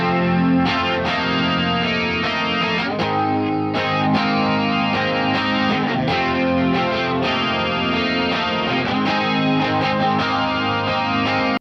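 Electric guitar played on a clean preset through a BOSS Katana MK2 amp with a chorus effect, strummed chords ringing continuously at steady volume, with no talking.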